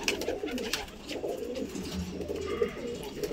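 Pigeons inside a loft give soft, overlapping coos close by, a steady murmur with faint chirps and a little talk.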